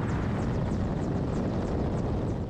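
Steady, loud rotor and engine roar of a Ukrainian military helicopter in flight near Bakhmut, a continuous dense drone with a faint rhythmic chop, no voices.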